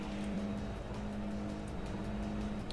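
Nissan 180SX engine in a racing video game, a steady loud drone with a constant tonal hum and faint tire squeal running throughout, no voices.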